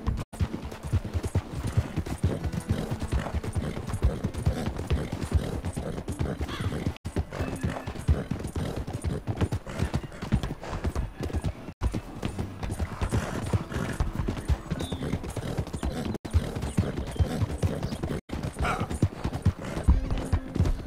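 Galloping horse hooves drum in a rapid, steady rhythm in the Red Dead Redemption 2 video game, with a faint whinny at one point and occasional distant gunfire.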